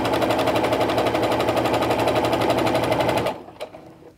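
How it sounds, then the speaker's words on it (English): A sewing machine stitches along the folded fabric edge of a child's face mask, a rapid steady motor whir and needle chatter running close for about three seconds before stopping abruptly. "I've got that presser foot lined up with the edge of that fold and I'm just gonna stitch down it."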